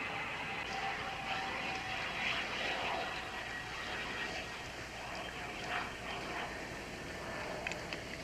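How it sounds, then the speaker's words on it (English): An airplane flies overhead, heard as a steady, broad engine drone that holds at a fairly constant level throughout with no speech over it. "It's a weird sound, sort of like an airplane."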